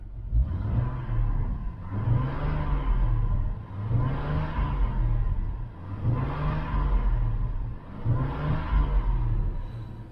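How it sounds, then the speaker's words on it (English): A 2004 Chevy Trailblazer engine revving up and settling back down in five regular cycles, each rev a swelling rumble close by, with the idle dipping between them. "She's running smooth and revs up good."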